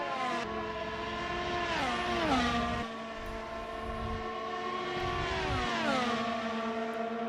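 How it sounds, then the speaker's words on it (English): Race car engines and exhausts in the Assetto Corsa racing game, a continuous loud drone with rising and falling pitch as the cars rev, shift gears and sweep past, with no voices. "During the race we can only hear the sound of the engines and the exhaust."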